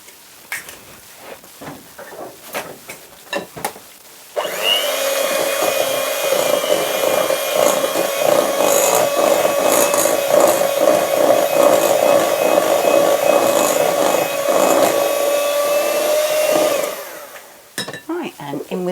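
An electric mixer whirs steadily for about twelve seconds, beating an egg into creamed cake batter for an apple cinnamon loaf, bracketed by clattering and knocking before and after, with no voices.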